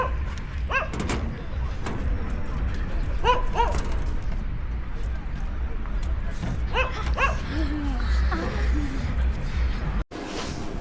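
Several short dog yips and whimpers come in small bursts over a steady background murmur, with people talking nearby.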